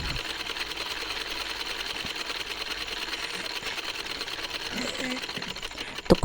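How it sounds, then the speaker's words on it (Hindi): A sewing machine stitches straight lines along the hem of a salwar. Its steady fast whirring rattle runs close and continuously and stops abruptly at the end. "तो अब इस लाइनों को हम करेंगे सिलाई।"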